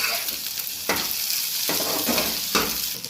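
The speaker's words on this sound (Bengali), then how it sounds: "আলুটা ভাজা হয়ে গিয়েছে" Potatoes frying in a pan make a steady sizzle, with a few brief stirring scrapes spread through it and no voices.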